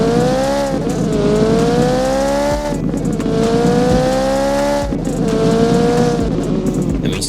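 Close, loud engine note of a car accelerating through manual gear changes, rising in pitch across three pulls with a sharp drop at each shift.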